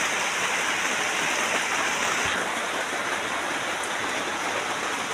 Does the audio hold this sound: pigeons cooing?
no